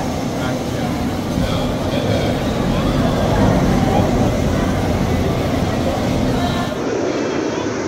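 The Mr. Freeze Reverse Blast roller coaster train at Six Flags St. Louis rolls through a dual loading station and switch track with a loud, continuous rumbling roar, close by and unbroken.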